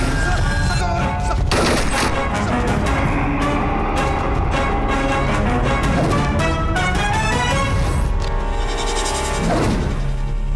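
Gunfire erupts in a Hindi film scene, loud bursts and volleys over a dense, driving soundtrack with voices mixed in throughout.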